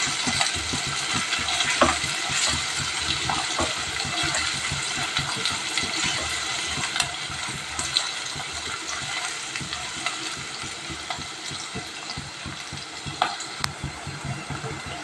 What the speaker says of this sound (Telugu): కొంచెం పచ్చిమిరపకాయలు, మరి కొంచెం కరివేపాకు, ఇవన్నీ బాగా ఫ్రై చేసుకుందాం.